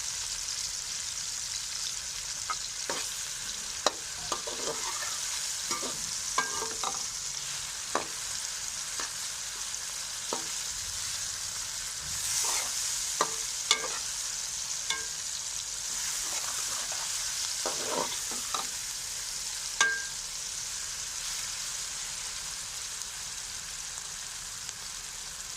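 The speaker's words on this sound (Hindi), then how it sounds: "अब हम इसमें कूटा हुआ लहसुन डाल देंगे।" Crushed garlic fries in a pan for bhindi gosht, giving a continuous close sizzle and crackle with scattered sharp spatters and occasional stirring clicks, with no voices.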